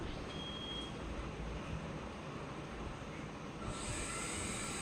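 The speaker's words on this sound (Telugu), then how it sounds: "కొంచెం సాల్ట్ కూడా వేసేసుకొని ఒక 2-3 నిమిషాల వరకు అన్నిటిని ఫ్రై చేసుకుందాం" Vegetables sizzling in a pan with a little salt for street-style ponganalu, a steady dense hiss of frying that runs unbroken and close throughout, growing slightly brighter near the end.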